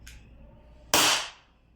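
A WE Glock 17 Gen 5 airsoft gas blowback pistol fires a single sharp, loud, close report with a quick decaying hiss after a faint click.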